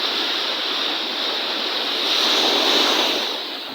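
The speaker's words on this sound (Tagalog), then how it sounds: "Naririnig nyo ba ang agos?" Sea waves and current wash steadily in the bay at San Fernando, La Union, a loud continuous surf roar swelling slightly toward the end, with some wind and no voices.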